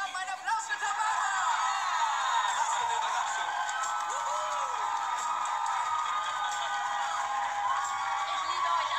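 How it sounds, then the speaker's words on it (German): A crowd cheers and applauds for Tamara, a continuous bright wash of whoops, shouts and clapping that holds steady at close range for several seconds, with scattered voices and laughter mixed in. "Alle zusammen einen Applaus für Tamara!"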